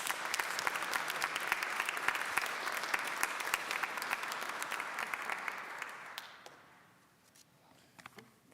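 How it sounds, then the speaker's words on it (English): Audience applause at a university convocation greeting a university president, dense and steady clapping filling the hall for about six seconds before fading to a few scattered claps. "a round of applause for the 9th president of Tuskegee University, Dr. Charlotte Patterson Morris."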